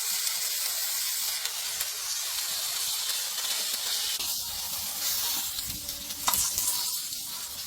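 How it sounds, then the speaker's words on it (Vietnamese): Fish frying in browned, scorching butter in a pot over an outdoor fire, a loud steady sizzle and hiss throughout with occasional crackles and pops, close by and with no talking. "Cá trong nồi đã bị bơ chiên cháy nâu rồi"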